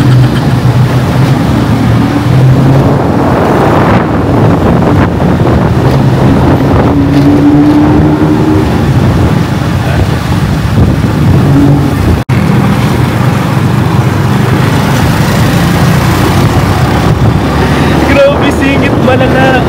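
Motorbike taxi ride through dense Bangkok traffic, a steady close engine drone with wind buffeting the microphone, surrounding vehicles passing and revving, and occasional voices underneath.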